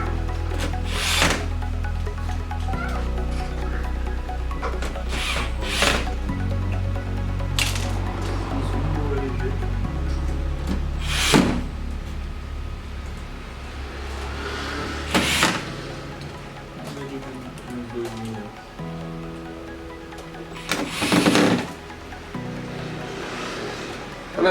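Many Torx T8 screws being unscrewed from a PS4 console during cleaning: a series of close, sharp clicks and squeaks, each screw giving a short burst, spaced several seconds apart over a steady background hum.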